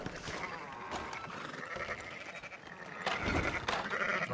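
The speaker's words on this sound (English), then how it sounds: "Fine sheep." Sheep bleat in a Red Dead Redemption II farm scene, a few rough calls rising over a busy game soundscape, louder toward the end, with no talk over them.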